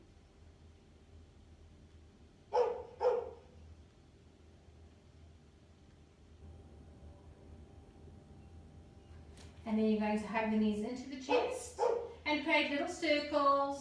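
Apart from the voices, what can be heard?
dog barking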